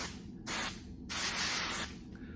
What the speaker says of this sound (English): just shake it up and just spray the tips